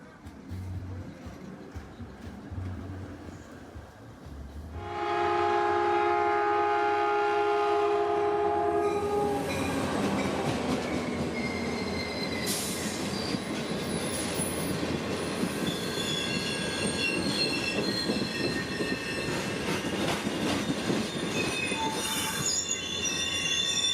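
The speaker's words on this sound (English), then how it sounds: "where the trolley was just departing" A San Francisco trolley rolls away on rails at Fisherman's Wharf, steel wheels squealing loudly and continuously over rumbling track noise, with a horn sounding partway through.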